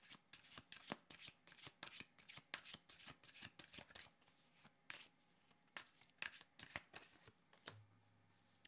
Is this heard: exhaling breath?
no